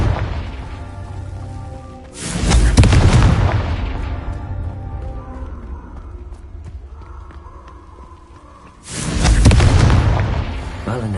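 A Confringo spell going off in a video game, heard as two heavy booming blasts with long rumbling decays, a few seconds apart, loud and close, with softer game ambience between them.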